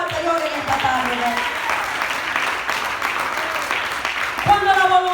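A church congregation claps for the Lord during an afternoon service, with sustained applause under a woman preacher's voice.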